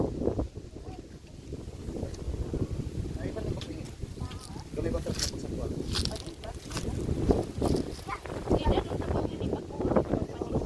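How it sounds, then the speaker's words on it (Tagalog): Strong wind buffets the microphone outdoors at a squash field, a continuous rough rumbling roar with gusty swells, while someone talks under it. "Grabe ang lakas ng hangin, oy."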